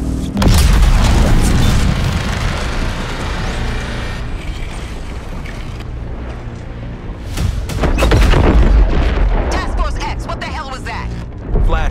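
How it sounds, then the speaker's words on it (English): Heavy artillery explosions boom repeatedly in Suicide Squad: Kill the Justice League, loud deep blasts and rumbling impacts rolling through the scene with voices talking over parts of it. "That artillery is gonna wreak havoc on our front line."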